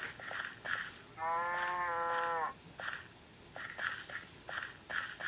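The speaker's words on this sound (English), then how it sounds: "It's just cows." One cow in a pen lets out a single drawn-out moo of just over a second, fairly close. Steady rhythmic clicking and ticking runs throughout, and no one speaks.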